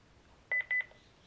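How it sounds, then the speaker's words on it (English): Alarm system keypad sounding a fault alert for an open hot tub gate: a quick cluster of short electronic beeps, two longer tones among them, clear and close against a quiet room. "it's also going to beep every few seconds to remind me that the gate's open."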